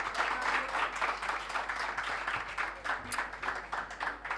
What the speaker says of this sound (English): But you deserve some applause from all of us here.